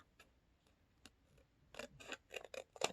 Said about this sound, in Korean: 가위를 사용해서 한번 뒤집어 보세요. 뿅! 이 하얀색 부분은 잘라주세요.